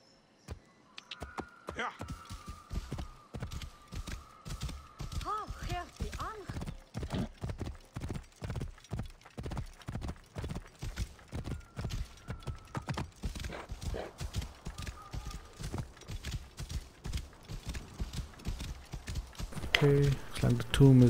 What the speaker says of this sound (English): Pick up speed, horse.